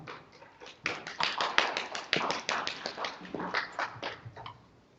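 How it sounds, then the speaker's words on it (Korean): Audience applause at a candidate debate for a patent attorneys' association presidential election, as a group claps in a brief burst of many overlapping hand claps that swells, holds steady, then fades out. "먼저 홍장원 후보님 박수로 환영해 주시기 바랍니다"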